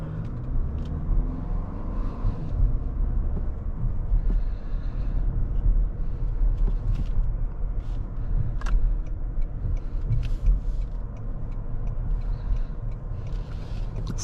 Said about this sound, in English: let's go for a drive in this Toyota Crown